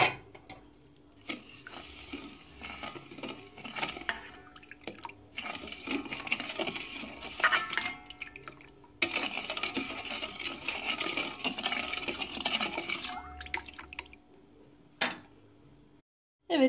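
A spoon stirring sugar into milk in a pot, rapid clinking and scraping taps against the metal in continuous bursts with short pauses, close and fairly clear, with no talking.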